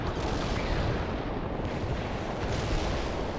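A continuous artillery barrage rumbles in World in Conflict, with dense overlapping booms forming a loud, unbroken low roar with no pauses.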